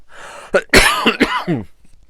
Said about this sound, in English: I'm going to have a cough.